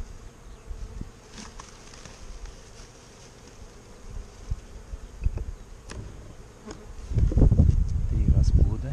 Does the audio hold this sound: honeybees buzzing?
yes